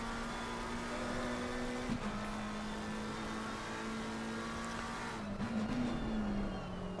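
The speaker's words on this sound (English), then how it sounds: "The screaming sounds of the McLaren." A McLaren race car engine screams in a racing video game at the Kyalami circuit, a sustained whining tone that dips briefly at a shift and wavers near the end, heard alone without talk.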